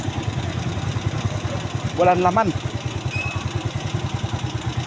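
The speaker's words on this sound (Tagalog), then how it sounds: "Kaya ngayon hindi ko muna pinatay ang makina" A motorcycle engine is left idling because its battery won't hold a charge overnight, suspected of a grounding fault, giving a steady, even chugging pulse throughout while a person speaks briefly over it.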